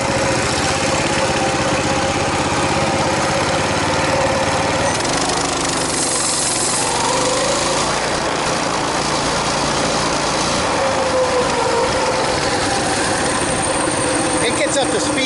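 A Coleman BT200X mini bike's small engine runs at full throttle, a loud, buzzing, steady drone throughout, with someone speaking over it.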